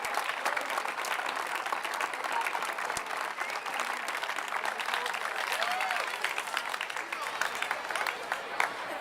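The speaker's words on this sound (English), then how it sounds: "I thought we should give a round of applause to all of the doctors, nurses, and caregivers out there" A crowd at a Relay For Life event in Fairfield, Connecticut gives sustained applause for doctors, nurses and caregivers, with dense steady clapping and scattered voices throughout.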